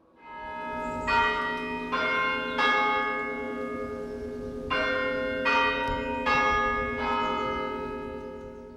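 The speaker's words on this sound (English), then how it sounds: "the church bells are said to have the loudest peal in the county" Bells of a large parish church in Coggeshall, Essex, peal in a slow, uneven series of ringing strikes, each bright clang hanging and decaying into the next, moderately distant and with no voices.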